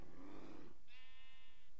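A single sheep bleats in a Minecraft world with the Mo' Creatures mod, a short wavering electronic-sounding bleat that follows a brief burst of noise, heard close and clear.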